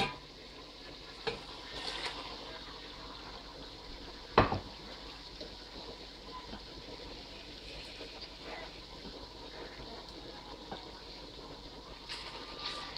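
Tomato paste being stirred into a Ghanaian-style chicken stew, a soft, steady frying sizzle with scraping stir strokes and one sharp clink of a utensil against the pot partway through, no talking.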